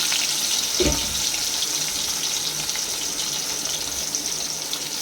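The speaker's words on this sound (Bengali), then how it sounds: "মাছ ছাড়া হচ্ছে" Pieces of katla fish sizzle in mustard oil in a kadai with a continuous close hiss, broken by one soft knock near the start and no talking.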